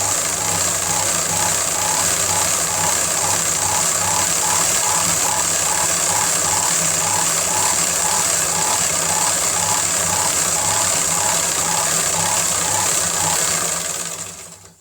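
A zigzag sewing machine stitching basic embroidery runs continuously at close range, a loud steady mechanical whir with a fast regular needle clatter throughout, winding down at the very end.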